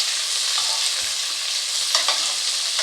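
Potatoes and onion frying in a pan are stirred through steady, close sizzling, with a few light scrapes and knocks of the utensil breaking through the hiss.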